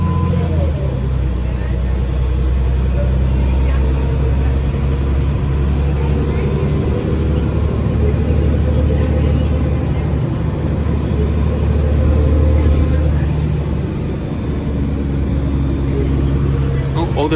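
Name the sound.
Montreal Nova Bus LFS city bus ride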